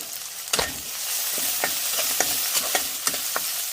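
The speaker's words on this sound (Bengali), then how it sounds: "তেলে আমি 5 ফোড়ন দিয়ে কালো জিরে দিয়েছি।" Panch phoron and nigella seeds sizzle in hot oil in a pan, making a steady bright hiss broken by scattered crackles and light clinks of stirring.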